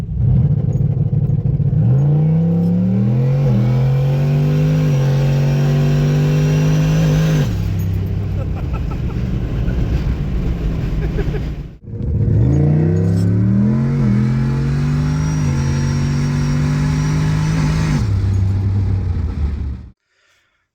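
A turbocharged Pontiac G8 GXP revs loudly in two long pulls, its pitch climbing and holding at high rpm before dropping away, with a short gap between the runs and an abrupt stop at the end.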